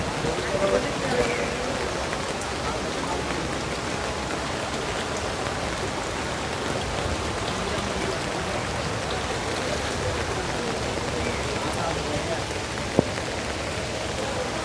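Steady, dense monsoon rain pours down across the whole stretch on a flooded street in Chittagong, a constant wash of drops hitting water and pavement, with one brief sharp knock near the end.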